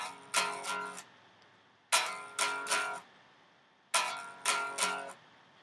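Guitar chords strummed slowly, three bright two-stroke strums spaced about two seconds apart, each left to decay, close and fairly quiet with no voices.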